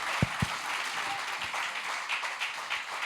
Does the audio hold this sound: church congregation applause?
yes